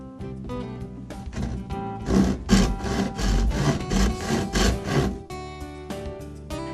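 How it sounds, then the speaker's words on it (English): A hand wood saw cuts through cornice frame rails, with a burst of quick rasping back-and-forth strokes that grows louder in the middle and fades to lighter scraping, close and without talk. "Using a wood saw, cut your rails at your mark."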